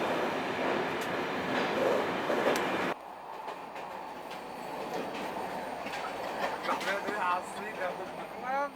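A train from Aleppo station in Syria heading south toward Damascus rolls along the rails with a rumbling, rhythmic clatter and occasional squeals, while people talk over it.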